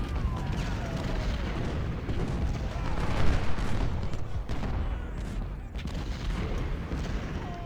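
Dense, rumbling cannon fire from the Civil War strategy game Ultimate General: Civil War, heavy booms rolling into one another in a continuous battle din with someone talking faintly underneath.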